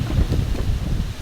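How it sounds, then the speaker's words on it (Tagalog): Strong wind buffets the microphone in a continuous low rumble, steady and close with no voices. "Grabe po kalakas ng hangin Ching."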